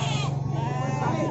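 Sheep bleating at a busy livestock market, a single close wavering bleat rising over crowd murmur and background talk.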